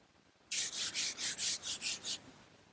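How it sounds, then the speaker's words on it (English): About eight quick back-and-forth sanding strokes with 320 grit wet/dry sandpaper between finish coats on wood, a soft rhythmic hiss close by, then quiet. "this 320 grit wet dry sandpaper is the perfect choice for sanding between coats"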